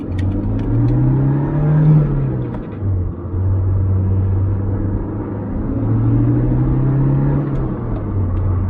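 Supercharged 1988 Toyota AW11 MR2 heard from the cabin while driving, a steady engine rumble and whir rising and falling in pitch as the revs climb and ease through gear changes, with no talk.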